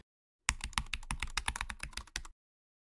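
Typing on a computer keyboard, a quick run of about fifteen crisp, close keystrokes in an uneven rhythm, alone against silence and ending abruptly.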